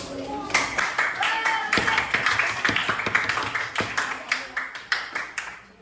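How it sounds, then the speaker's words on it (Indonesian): A small group claps hands in a classroom, a run of uneven, close claps lasting several seconds, with some voices underneath. "Tepuk tangan dulu."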